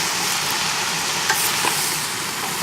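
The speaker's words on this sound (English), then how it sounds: "give it a stir." A wooden spoon stirs vegetables for a vegetarian lentil soup in a big pot, giving a continuous soft sizzle and scraping hiss at moderate level, with a couple of faint knocks and no voices.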